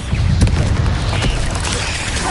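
A Bombarda explosion spell cast in the video game Hogwarts Legacy goes off as a loud, booming blast, with a deep rumbling body and crackling debris that fill the whole couple of seconds.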